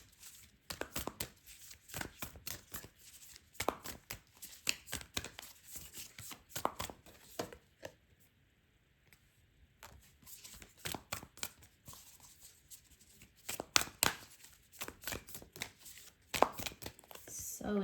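Tarot cards being shuffled and pulled from the deck, a run of quick papery riffles and slaps in irregular bursts with a short quiet pause in the middle, close and fairly soft.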